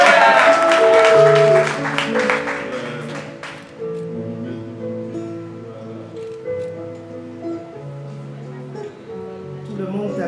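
A wedding congregation applauds to acclaim the Lord, with a burst of dense clapping that fades quickly into sustained music and singing.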